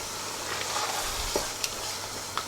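Chopped green chillies, three of them, go into keema cooking in a pan with methi, followed by a steady close sizzle and frying hiss with soft stirring scrapes and a few sharper clinks.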